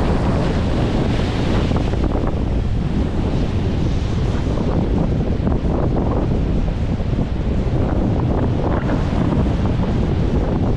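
Rough sea surf crashes continuously under heavy typhoon wind buffeting, a dense, loud roar of waves and gusts with no voices.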